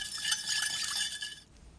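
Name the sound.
mixing sugar, pepper flakes and lime juice dressing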